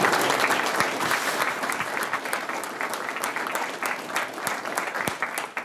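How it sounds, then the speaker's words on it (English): Audience applause fills a luncheon hall as an award is presented, a steady, dense wash of clapping hands that holds at full strength throughout with no talk over it. "You can now applaud."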